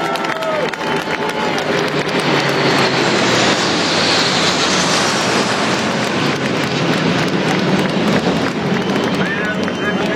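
Patrouille de France jets fly over the Le Mans circuit during the 24 Hours race, a loud, sustained jet roar that swells and fades overhead above a murmuring trackside crowd.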